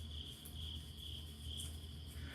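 Crickets chirp in a steady, continuous night camping ambience, a constant high trill over a low background hum, with no talking.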